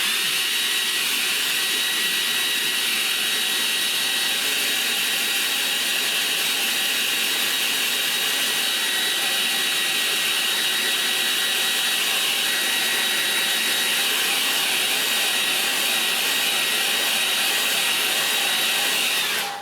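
A hair dryer blows steadily and loudly onto a watercolour painting of an approaching storm, a constant broadband whoosh held for about twenty seconds with no talking.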